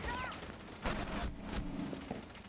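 Video game gunfire crackles in a few sharp bursts at moderate distance, with a voice speaking briefly between the shots.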